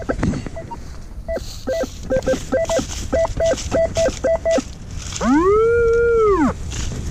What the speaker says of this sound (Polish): Mam jakiś sygnał pod ścianą koło Starej Rynny.